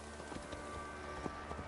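Hooves of a newly acquired horse clip-clop at a stable in a video game, a steady, soft walking rhythm of light taps over a constant background hum, with no talking.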